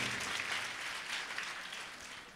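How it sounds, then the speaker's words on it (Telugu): An audience claps steadily at a church sermon, a dense, even wash of many hands that holds fairly loud for the whole stretch and tapers slightly at the end, with no voices over it. "చప్పట్లు కొట్టండి ఒకసారి."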